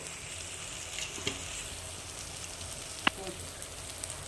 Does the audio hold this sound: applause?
no